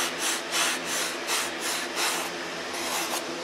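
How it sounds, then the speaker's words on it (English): Coarse 80 grit sandpaper rubbing hard on a carved wooden model aircraft cowl, a loud, rough scrape that pulses in even back-and-forth strokes, close up and with no talk. "I'm taking 80 grit and I'm pulling it down to shape."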